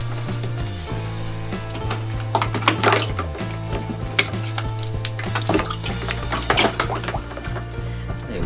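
Cold water pours and splashes steadily into an evaporative air cooler's tank with ice cubes, with occasional clinks and knocks over a constant low machine hum.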